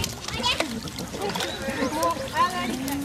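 Kooikerhondje dog Tera swimming, with light water splashes close by under excited voices of people and someone talking over most of the moment.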